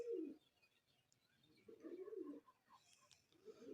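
Pigeons coo in three soft, low rolling bursts, at the start, around the middle and at the end, with faint chirps between, fairly close and with no talk.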